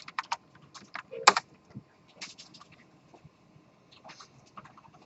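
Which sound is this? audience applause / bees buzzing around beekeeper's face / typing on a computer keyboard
typing on a computer keyboard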